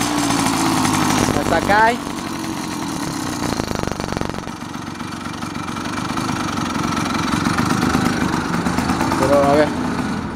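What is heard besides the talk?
small gasoline engine running loudly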